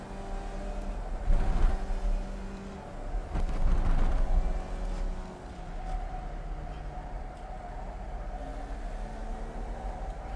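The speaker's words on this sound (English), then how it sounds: "You can hear the tyres squealing" A Formula Vee open-wheel race car in iRacing at Rudskogen squeals its tyres in sliding, wavering tones over the steady buzzing engine drone, with two stronger swells early before settling back into the engine note.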